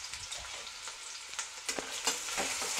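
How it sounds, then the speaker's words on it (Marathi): Finely chopped small-to-medium onion sizzles steadily in hot oil in a pan for a Marathi vajri masala, a continuous close crackle with occasional louder pops and stirring scrapes. "आता त्याच्यामध्ये हे बारीक कट केलेला कांदा टाकूया"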